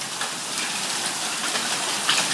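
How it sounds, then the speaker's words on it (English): Hail falling in a South Florida backyard during a hailstorm makes a dense, steady hiss of pellets striking the ground, loud and continuous with a few sharper impacts near the end. "hail is falling from the sky"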